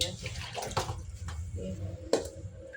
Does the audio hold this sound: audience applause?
no